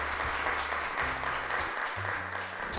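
Applause from a studio audience on a Turkish children's TV show greets a girl called up to receive a gift. The dense, steady clapping fills the whole stretch, with a low tone humming underneath.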